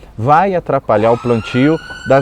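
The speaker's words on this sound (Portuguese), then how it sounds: "Desculpa a sirene que está tocando aqui agora, passando uma ambulância" An ambulance siren wails faintly in the background as it passes, its thin tone largely masked by a person speaking loudly and close up throughout.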